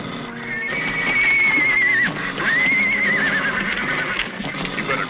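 A horse whinnies loudly and close by in two long, rising-and-falling neighs, with hoofbeats clip-clopping underneath and a steady noisy background.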